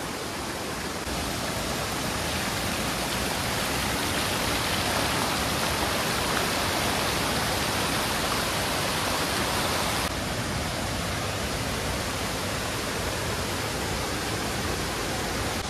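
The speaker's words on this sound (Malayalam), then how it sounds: "ഇവിടെ നല്ല മനോഹരമായൊരു വെള്ളച്ചാട്ടമുണ്ട്. ചെറുതാണെങ്കിലും ആ മുകളിൽ നിന്ന് അതിങ്ങനെ ഒഴുകി വരുവാണ്." A small forest waterfall near Thommankuthu flowing into a river makes a dense, steady roaring hiss of falling water, loud and close, unbroken and without voices.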